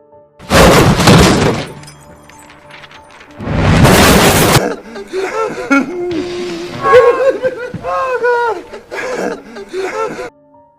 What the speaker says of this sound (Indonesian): Charles dengan nekat mendorong meja belajar John beserta buku-bukunya keluar jendela hingga meja itu pun hancur